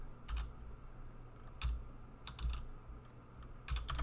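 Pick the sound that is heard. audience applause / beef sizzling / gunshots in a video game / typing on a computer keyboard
typing on a computer keyboard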